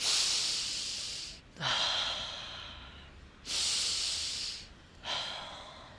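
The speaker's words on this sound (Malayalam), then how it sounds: "നമുക്കിങ്ങനെ ശ്വാസം എടുക്കാം" Deep, slow breaths of fresh mountain air in Munnar, green hills with trees all around: four long, close, audible inhale-exhale cycles with pauses between, no talk.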